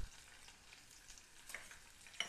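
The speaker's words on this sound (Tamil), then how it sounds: "சேர்த்து நல்லா ஃப்ரை பண்ணிக்கோங்க." Onions and curry leaves frying in a pan for beetroot poriyal, a faint, soft sizzle with a couple of light stirring scrapes, brief and quiet.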